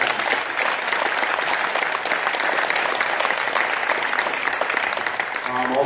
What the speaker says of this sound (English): he deserves a round of applause for it